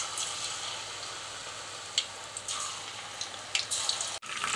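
Mushrooms frying in hot groundnut oil give a steady soft sizzle with occasional crackles and pops, and some clinks as pieces are added.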